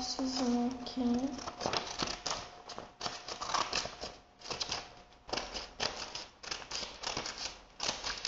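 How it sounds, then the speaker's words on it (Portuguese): Scissors snip through paper or cardboard while a paper dog is being made, giving a busy run of crisp cuts and rustles with brief pauses. A faint tonal sound rises near the start. "Você vai pegar a tesoura, cortar essas partes aqui."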